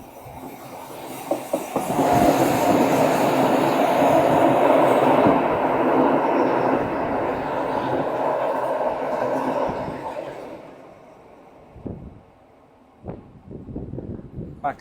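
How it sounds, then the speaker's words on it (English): Bernina line train in the Swiss Alps passing toward St. Moritz, a loud sustained rumble with rail clatter that rises, holds for several seconds, then fades, followed by a few scattered clicks and light voices. "here comes another train heading back"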